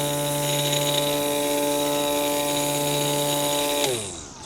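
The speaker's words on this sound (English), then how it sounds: "we simply set it up and press, and we're able to trim the grass" ALSO GO 21V cordless battery string trimmer cutting grass with a steady high electric motor whine, close and constant, then winding down in pitch as it powers off at the end.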